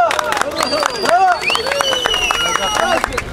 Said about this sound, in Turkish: Bir alkışlar mı?